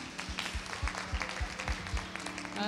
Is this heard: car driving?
no